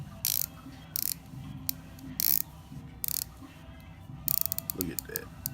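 The black unidirectional rotating bezel of a 52mm Invicta Venom watch is turned in short bursts of crisp ratcheting clicks, close and loud, separated by pauses with faint handling noise and a rapid run of clicks near the end.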